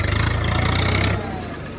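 A tractor engine running in four-wheel drive on a farm, a steady mid-pitched diesel drone that sounds close and loud, then drops in level and eases to a lower hum partway through.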